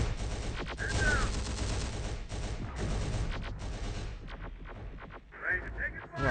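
Gunfire from the Terminator: Dark Fate - Defiance video game: dense, continuous bursts and booming artillery-like blasts, loud and close, with radio-style voices speaking over the shooting.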